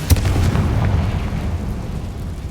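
A Confringo fire spell blast in the Hogwarts Legacy video game, a single sharp boom at the start followed by a sustained low rumbling roar that gradually fades.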